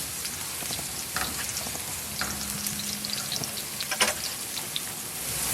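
Garlic sizzles in about three tablespoons of oil as a carrot rice dish gets started, a steady close frying hiss with scattered pops and a brief clatter near the end, no voices.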